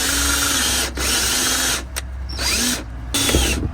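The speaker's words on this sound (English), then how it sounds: "Drilling the hole, the centering hole for the template for the air conditioner." A power drill whirs loudly in several steady bursts, pausing briefly between them as it bores a centering hole through a Sprinter van for an air conditioner template.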